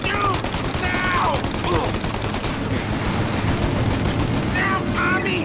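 Gunfire in a shootout in the video game Mafia: Definitive Edition, rapid cracking shots and bursts over a dense battle din, with voices shouting between the volleys.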